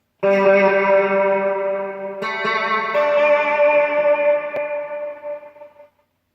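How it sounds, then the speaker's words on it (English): Guitar notes ring through a Zoom MultiStomp reverb, a sustained chord then a second strum with shimmering trails that fade and are chopped off sharply by a noise gate into silence, with no talking. "If you put a gate at the end of a reverb, it does kind of get annoying and cut out the trails for you"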